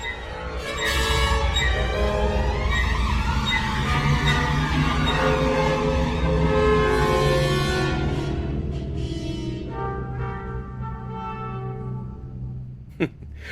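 A full orchestra imitates police sirens and traffic in a loud, dense passage, with sliding, siren-like trombone glissandi and blaring horn-honk chords, thinning out toward the end.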